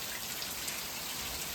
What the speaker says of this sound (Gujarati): તો ફાઇનલી વરસાદ આવી ગયો